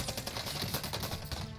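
Automatic gunfire in the video game Call of Duty Warzone, a rapid steady burst of shots firing continuously and loud throughout, with no talk over it.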